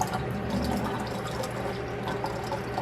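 Water running into a jar of tomato seeds, a close, continuous gurgling fill with bubbly trickling that stays steady for the whole stretch.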